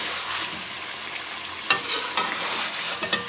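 Chili and onion sizzle in a karahi pan while a spoon stirs them. A steady, close frying hiss is broken by a few sharp metallic scrapes and clicks near the end, with no talking.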